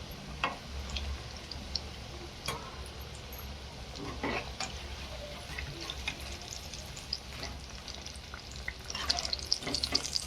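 Vada pav potato fritters deep-frying in oil over a low flame, a steady soft sizzle and bubbling with scattered light ticks and pops, close and moderately quiet throughout.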